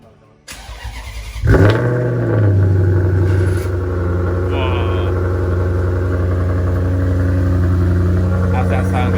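A naturally aspirated V8 sports car engine cranks and fires, then climbs in a loud, close rev before settling into a strong, steady idle with a deep rumble, a voice briefly heard over it.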